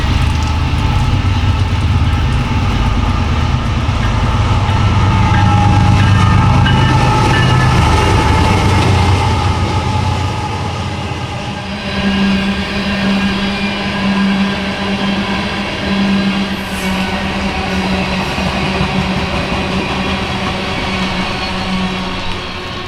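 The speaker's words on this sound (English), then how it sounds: "GEVO and C6M, it was a coal train, and a loaded coal." A loaded coal train rolls past, led by GEVO and C6M locomotives, its wheels and cars rumbling loud and continuous with a low engine drone underneath and no voices.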